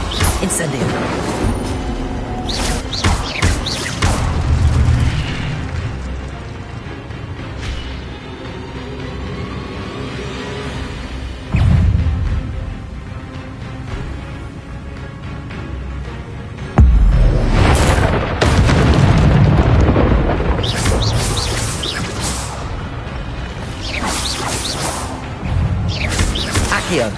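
Incendio fire spells cast in the video game Hogwarts Legacy, heard as loud booming blasts and whooshing bursts over a dense roar of game effects, with sharp new surges near the middle and again toward the end.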